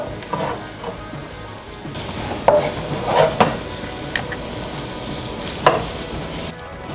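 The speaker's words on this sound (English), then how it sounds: "we're going to mix around all of our pasta into that beautiful oil" Aglio olio e peperoncino pasta with parsley being stirred through hot oil in a pan, a steady close sizzle and fry broken by several sharp clinks and scrapes of the utensil.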